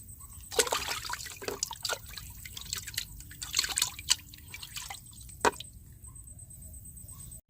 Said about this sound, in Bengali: এখন আমি ফিলাগুলোকে ধুয়ে নেব